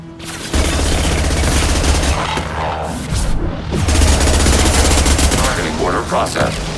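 Defensive turret in Mass Effect 2 fires sustained machine-gun bursts, loud and continuous for several seconds with a brief lull near the middle, under faint voices.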